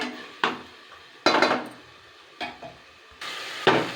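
Ingredients sizzling and being stirred in oil in a pressure cooker for Ambur biryani, with several sharp scraping and clanking bursts of a spoon against the metal pot over a low steady frying hiss.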